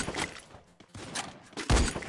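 Bursts of gunfire in a video game are aimed at an ice wall, short crackling volleys broken by brief gaps and ending in a heavier thump, with quiet voices now and then.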